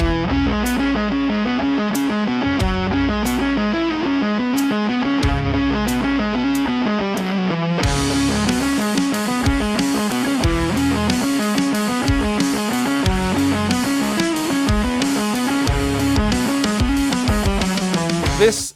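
Electric guitar played through an EHX Percolator analog distortion stomp box, a modern take on the HP1 harmonic percolator circuit, giving a loud, continuous fuzzy riff that turns brighter and heavier around the midpoint, with no voices.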